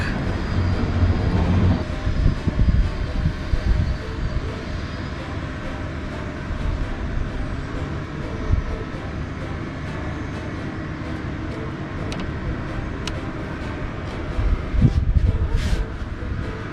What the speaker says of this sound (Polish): Moja maszynka ma opcję wolnych obrotów, więc na takie włączam i powolutku nadziewamy kiełbasę.